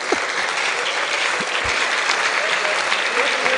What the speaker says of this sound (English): we can do better with that applause.